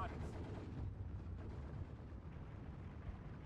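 Mortar fire in the Steel Division 2 Tiraspol campaign battle: a steady, muffled rumble of distant booms and battlefield noise that runs through the whole stretch with no clear single blasts, while a voice speaks over it.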